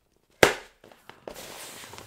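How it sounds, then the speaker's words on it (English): An inflatable beach ball bursting with a single sharp, loud pop up close, followed by faint rustling and a soft hiss of escaping air. "Beach ball popping."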